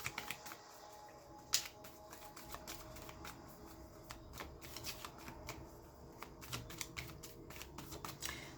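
Tarot cards being shuffled by hand, a quiet, close run of rapid papery riffles and soft snaps repeating throughout with no talking.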